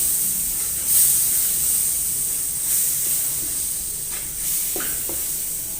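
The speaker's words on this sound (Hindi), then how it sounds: "पेस्ट को अच्छे से खुश्क कर लेंगे चमचा चलाते हुए।" A spoon stirs thick mango coconut ladoo paste with condensed milk in a hot kadai, giving a constant soft sizzling hiss with occasional scraping strokes.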